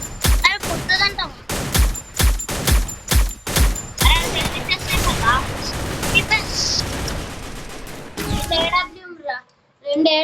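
A shooting video game fires a rapid string of loud gunshots, evenly spaced sharp bangs, then a messier stretch of shots, while voices talk over the firing throughout.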